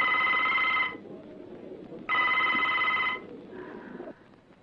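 An old-style telephone bell rings in two loud, close bursts with a pause between them, as a call goes through to a police station. A softer tone trails off at the end.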